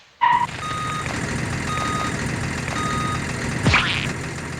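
A large eight-wheel truck reverses with evenly spaced warning beeps over a steady engine rumble, close and loud, with a sharp hiss near the end, used as a comedy sketch sound effect.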